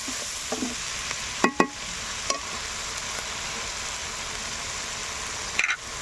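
Spice paste of ground cumin and a little ground nut sizzles steadily in a pan for a chicken dish with mango leaves and apple, with a few sharp scrapes and clinks of stirring spaced through the frying hiss.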